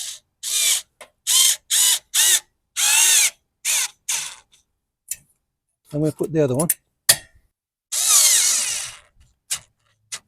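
A cordless power drill drives self-tapping screws into the frame of a DuraMax XP4400EH generator, running in several short bursts with brief pauses, close and loud, with someone speaking between the runs.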